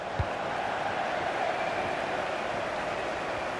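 A steady, dense roar of a stadium crowd in the football video game FIFA 20, continuous and even throughout, with a low thump near the start.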